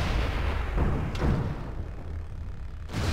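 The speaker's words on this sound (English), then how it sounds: "Opening fire." Mech weapons fire in MechWarrior Living Legends during a battle on an ice planet map: loud rumbling blasts and heavy booms fill the span, with a sharp crack near the middle and another burst near the end, no talk.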